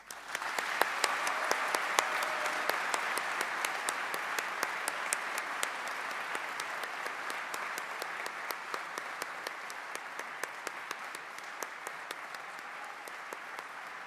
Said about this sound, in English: I'm sure you would like to join me in giving them a warm round of applause